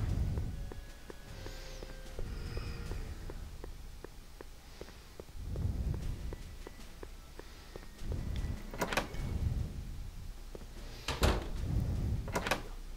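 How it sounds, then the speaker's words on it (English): Courthouse doors in a Back to the Future video game creak and thud open, a few low bumps and clunks followed by sharp clicks and latches, moderately quiet against a faint background. "Courthouse doors."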